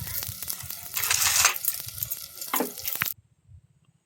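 Food frying and being stirred in a pan over a wood fire, a busy sizzling crackle with scraping stirs for about three seconds, close and fairly loud, then cutting off into near silence.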